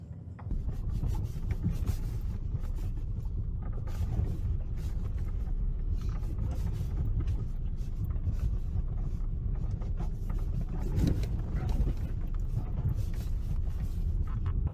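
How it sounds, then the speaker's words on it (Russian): A car drives through a village with a steady low rumble of engine and road noise from inside the cabin, with rattles and wind buffeting throughout and no talk. "Сейчас поедем по деревне, прокатимся."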